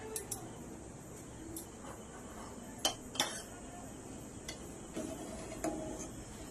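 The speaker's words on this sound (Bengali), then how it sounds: "এবার আস্তে আস্তে এগুলোকে আমি তুলে নেব ছেঁকে" Prawn dumplings being lifted from hot cooking water with a strainer, making faint metallic clinks and taps at irregular intervals over a quiet kitchen background.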